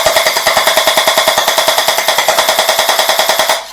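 Glock 17 electric gel blaster pistol on full auto, a loud, close, rapid and even burst of about forty shots over three and a half seconds before it stops abruptly.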